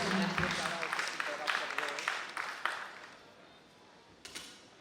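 An audience applauds to welcome the governor at a Ranchi, Jharkhand program, a fairly distant wash of clapping that gradually fades over a few seconds, with a voice speaking over it at the start.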